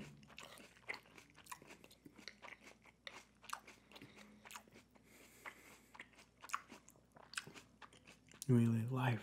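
Crisp bites and crunching chews of crunchy nuts in a close-miked ASMR eating session, repeated in irregular snaps and crackles, with a louder burst of handling noise at the end.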